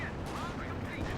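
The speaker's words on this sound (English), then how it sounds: "Here comes the Panzer IV. Bazooka rockets meet it." Bazooka rockets blasting into a Panzer IV tank during a video game battle, a dense continuous roar of explosions and gunfire filling the whole clip, loud and close.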